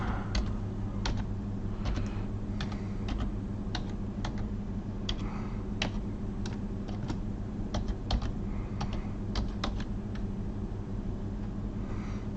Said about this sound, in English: I'll type that in the chat for you.